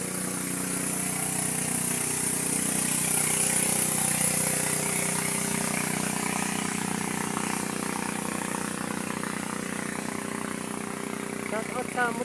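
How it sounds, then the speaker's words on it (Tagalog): A motorcycle engine drones past at a riverside resort on a hot summer day, a steady mid-pitched rumble that holds for several seconds under a talking voice and steady background noise. "Shout out sa motor na dumaan."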